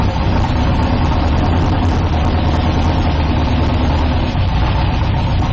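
A car engine runs steadily in second gear with a vehicle transmission under test, a loud continuous low rumble that holds an even drone without pauses or voices.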